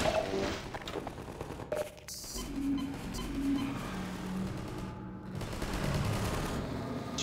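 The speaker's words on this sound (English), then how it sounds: "Jesus, how much are they shooting?" Sustained gunfire from many weapons in the Half-Life 2 video game, dense rattling bursts with crashes filling the whole stretch, loud and continuous rather than isolated shots.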